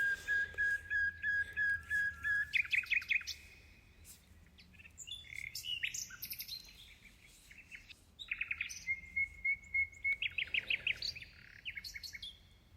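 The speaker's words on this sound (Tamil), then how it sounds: "ஒரு குருவி ஒன்று கத்திக்கொண்டே இருந்துச்சு" A small bird repeatedly calls near a sculpture walk trail, with runs of clear, high whistled notes and quick chirping trills coming in bursts and separated by brief pauses against soft outdoor background noise.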